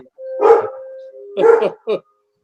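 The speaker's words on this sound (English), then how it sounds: "You hear my dog?" A dog barks indoors during a remote city council meeting, two loud drawn-out barks with a short yip at the end, near and alone with no talk over it.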